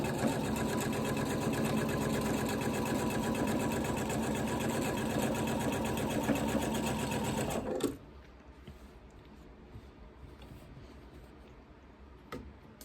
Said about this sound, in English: now I'm good to stitch down my next one